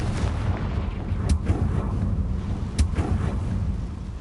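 Confringo fire spell blasts in Hogwarts Legacy on PS5: a steady low rumbling roar with two sharp cracking impacts about one and a half seconds apart, loud and close, with no talking.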